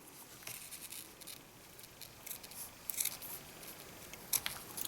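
Scissors snip off the ribbon ends on a paper gift box, a few quiet, close, crisp cuts scattered over a soft background.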